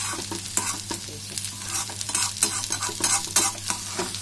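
Egg bhujia, scrambled egg, fries in a pan with a continuous close sizzle. A utensil stirs it constantly, making rapid, rhythmic scraping strokes over the hiss.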